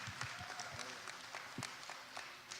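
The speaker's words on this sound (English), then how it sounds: "A round of applause for Sarah." An audience applauding at a university Olympic Day event, steady soft clapping heard from some distance, with a few louder claps standing out over the crowd.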